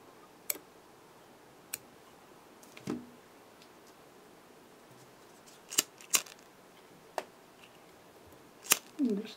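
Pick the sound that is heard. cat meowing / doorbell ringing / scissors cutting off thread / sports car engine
scissors cutting off thread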